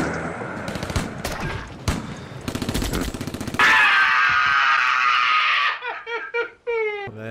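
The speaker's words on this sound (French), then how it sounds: "Ouais, là, il tire." Gunfire in a scene from the 1980 horror film Maniac, a rapid burst of sharp shots followed by a loud sustained roar and ringing tones, with laughter or voices mixed in.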